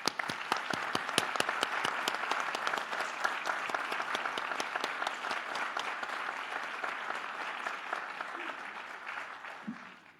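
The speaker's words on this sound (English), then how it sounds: "Please join me in giving a round of applause to thank Mimi for her extraordinary dedication to the town of Southborough." At an annual town meeting in Southborough, an audience gives a long, steady round of applause, dense and even throughout with a murmur of voices beneath it.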